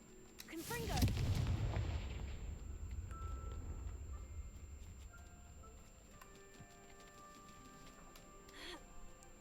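Fire spell blast from a Harry Potter video game, a single loud booming explosion at the start that rumbles away into a long fading tail under quiet game ambience.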